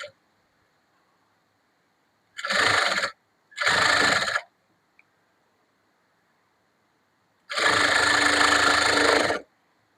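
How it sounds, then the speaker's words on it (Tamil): An electric sewing machine stitches a folded quarter-inch hem on blouse fabric in three separate runs: two short bursts close together, a pause, then a longer steady whir of about two seconds, with silence between them. "மடக்கி விட்டுட்டு 1/4 இன்ச்சு அளவுல தைங்க."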